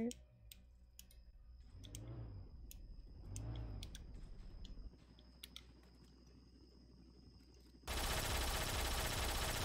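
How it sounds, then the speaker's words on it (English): Gunfire in the Roblox game Jailbreak comes as rapid clicking shots and short bursts over a low engine-like drone, ending in a loud rush of noise. "I just see everybody shooting each other."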